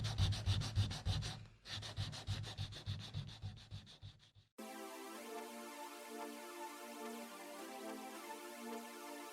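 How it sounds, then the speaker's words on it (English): Steady scratchy rubbing of sandpaper on raw plastic car body parts in repeated strokes, then a smoother, continuous abrasive hiss after a brief pause; close and moderately loud. "this is what it looks like when you're sanding raw plastic down"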